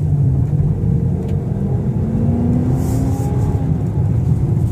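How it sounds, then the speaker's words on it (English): A 2016 Dodge Charger R/T with its Hemi engine accelerating, a loud, deep, steady engine rumble with a rising whine, heard close from inside the car with no talking. "You hear that engine?"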